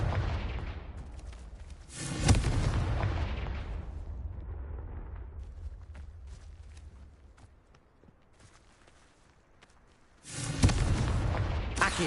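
Fire spells in the Hogwarts Legacy video game go off as deep booming blasts, a heavy burst near the start that rumbles and fades, a quieter lull, then another loud explosive blast at the end.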